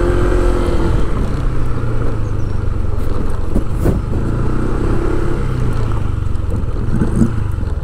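An adventure bike's engine drones steadily while riding, a continuous low mechanical hum with slight pitch shifts and road noise, no voices.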